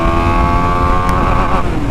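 A TVS Apache RR310 motorcycle engine under hard acceleration, a loud, steady, close-up rasping drone with a rising tone that holds throughout.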